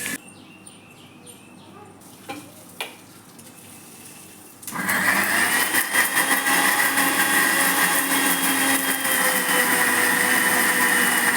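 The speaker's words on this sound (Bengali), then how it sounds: "তো এগুলো এখন মিক্সিতে পেস্ট করব।" An electric mixer grinder whirring as it makes spice paste, starting up loud and steady after a few seconds of quiet room sound with faint bird chirps, then running continuously close by.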